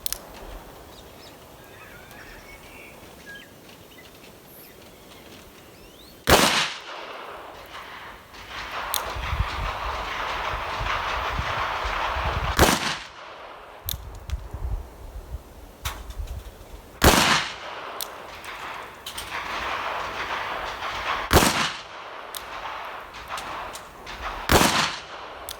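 A Colt Police Positive .38 Special revolver fired single action at a target about seven yards away, five sharp loud shots spaced a few seconds apart, each followed by a brief ringing tail and quiet handling between.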